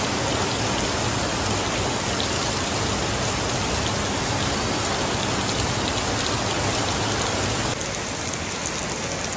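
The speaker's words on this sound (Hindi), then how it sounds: "बहुत तेज बारिश है" Heavy rain pours down steadily and loudly, a dense continuous hiss of drops hitting surfaces close by, with no voices, easing only slightly near the end.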